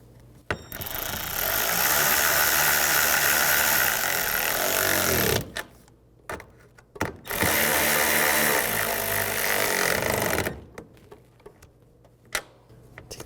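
A power tool runs in two sustained, loud bursts of about five and three seconds, tightening nuts on a 2013-15 Nissan Sentra outer tail light, with small clicks and handling noises between.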